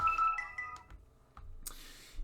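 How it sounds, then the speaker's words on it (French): A mobile phone ringtone plays a short melodic electronic tune with clear repeated tones, fairly quiet, followed by a brief rustle and a burst of noise, with no one talking. "j'ai mon téléphone qui sonne"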